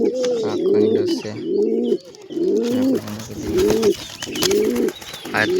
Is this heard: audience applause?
no